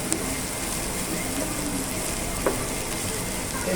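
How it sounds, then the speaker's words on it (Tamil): Onions, dried red chillies and curry leaves sauté in hot oil, giving a continuous, fairly loud sizzle with a few faint taps from a spoon against the pan. "இதெல்லாம் சேர்ந்து நல்லா வதங்கட்டும். ஆனியன் நல்லா ரோஸ்ட் ஆகணும்."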